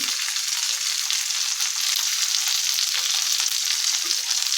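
Stuffed okra (bharli bhendi) fries in oil on a griddle with a constant, close hissing sizzle and a few soft stirring touches, and nobody speaks.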